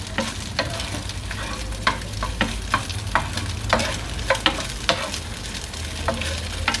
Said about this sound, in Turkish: Görüyorsunuz kuyruğumuz hemen yağını bırakmaya başladı. Böyle karıştıralım onu iyicene.